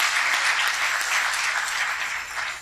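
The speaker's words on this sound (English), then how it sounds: "Give April another round of applause" An audience at an awards ceremony in a public library applauds an honoree, a steady, loud wash of many hands clapping close by with no talk over it.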